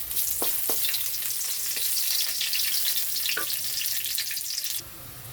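Garlic sizzles steadily in hot oil in a pan, cooked until golden for a beef and broccoli stir fry, with a dense, continuous frying hiss and a few brief clinks before the sound drops suddenly.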